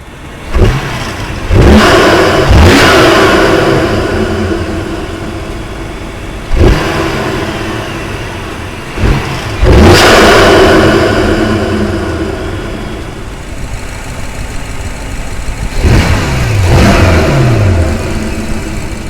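A BMW F10 M5 with Project Gamma intakes revs while stationary, several sharp throttle blips rising into loud roaring swells that decay back toward idle, captured close from the engine bay behind the intake.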